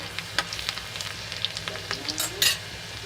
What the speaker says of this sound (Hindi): हमने कढ़ाई में तेल डाल दिया है। इसमें हम सबसे पहले डालेंगे लहसुन